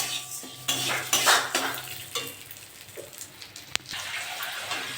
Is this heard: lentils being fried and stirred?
yes